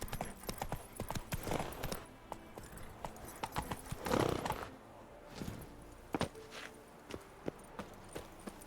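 A horse's hooves clip-clop in the Witcher 3 video game. The hoofbeats come as a steady run of close, clear thuds and shift in pace, with game sounds in the background.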